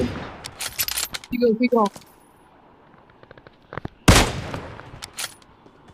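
Gunfire in the battle royale game BGMI comes as short, sharp bursts of shots scattered through the moment, with one loud crack near the end, while players shout urgently over it.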